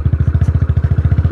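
A Royal Enfield Bullet motorcycle rides off-road with its engine thumping close and loud. Low pulses come in an even, rapid rhythm, with a faint rattle above them and no talking.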